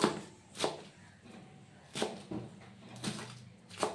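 A knife chops fresh fenugreek greens on a board at close range: about six to seven sharp, irregular cuts with short gaps between them, and no talk.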